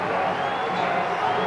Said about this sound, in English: Joyous scenes right around the McAlpine Stadium from this record crowd